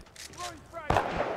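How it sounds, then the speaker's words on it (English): Grenade explosions in the video game Titanfall 2 land as a sharp, loud blast near the end of a short stretch, preceded by game sound effects and a voice. "You keep walking into grenades"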